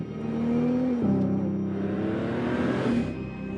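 A Jaguar XF sports car drives past with a smooth, steady engine hum and a slight pitch shift as it shifts gear, loud and close with no voices.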